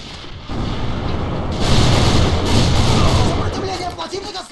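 Gunfire exchange in the online shooter AVA (Alliance of Valiant Arms) on the Black Sand map, with dense bursts and booms building in the middle, mixed with a commentator's voice and game noise.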